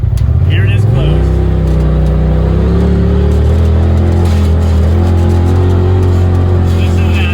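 Polaris RZR Turbo Pro side-by-side running with its RPM E-Valve mid-pipe exhaust closed, a steady deep engine drone that builds slightly in pitch as it rolls along, loud and close throughout.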